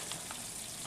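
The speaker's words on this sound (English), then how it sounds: "filet sizzling over there" A bluegill fillet fries in a pan at a campsite, giving a steady, hissing sizzle that stays even throughout the short moment with no voices.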